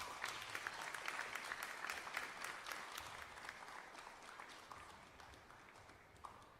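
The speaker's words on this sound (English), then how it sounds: "Can you hear that applause in the background?" Audience applause at a world 8-ball pool championship, a steady wash of many hands clapping at moderate distance that continues throughout.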